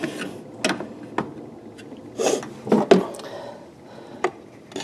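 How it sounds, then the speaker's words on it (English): A screwdriver pries at a jammed radiator line fitting on a 2001 Dodge Ram 1500, with irregular metallic scrapes, clicks and knocks in uneven bursts against a quiet background. "Just some more screwdriver action. It's jammed in the line."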